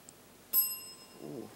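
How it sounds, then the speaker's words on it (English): A single clear, bright bell strike signals the end of a round on a televised school quiz show, ringing with a shimmering decay before a faint murmur of voices. "And that's the bell."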